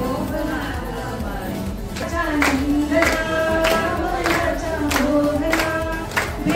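An audience claps at a baby shower ceremony, steady scattered applause rising and continuing alongside a voice and tonal music in the background.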